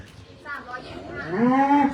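A one-year-old crossbred European bull, about 325 kg and not castrated, moos twice close by, a short low call followed by a longer, louder drawn-out bellow, with no talking over it.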